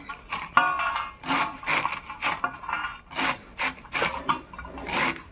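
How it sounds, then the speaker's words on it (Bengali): Spinach leaves are chopped into small pieces on a boti blade, giving repeated crisp rubbing, slicing strokes in an uneven rhythm, close and fairly loud with no talking. "এই যে শাকগুলোকে এইভাবে কেটে নেব ছোটো ছোটো করে"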